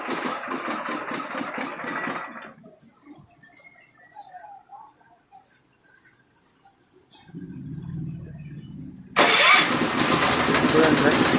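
An engine cranks briefly and then fires up and settles into a loud, steady idle after the choke has been set and the key pressed. Talking precedes the start.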